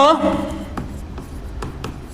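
Chalk or marker scratching out a statement on a classroom board, a string of short, sharp strokes and taps following a brief burst of voice at the start.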